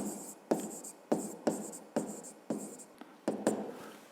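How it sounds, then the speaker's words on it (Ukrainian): Pen or pencil writing out a maths answer by hand on paper, a series of short scratchy strokes in quick bursts with brief pauses between, close and fairly quiet, with no talking. "Записуємо тоді відповідь."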